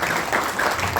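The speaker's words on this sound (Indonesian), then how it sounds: "Ya, tepuk tangan, tapi sudah meningkat." Seminar audience applauds in a dense, continuous patter of many hands clapping together for a brief moment, fairly loud and close.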